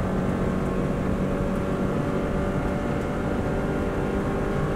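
A Subaru WRX STI engine held at full throttle along the Isle of Man TT course, a steady loud roar that stays flat and unbroken for several seconds with no talk over it.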